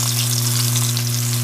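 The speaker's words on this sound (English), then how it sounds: "You fry it, and then you remove it" A lamb steak fries in a pan with a steady, close, crackling sizzle and a constant low hum underneath, no voices.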